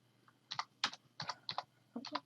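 Quick bursts of keystrokes on a computer keyboard as a message is typed, several short clusters of crisp clicks close up in a quiet room, with no voices.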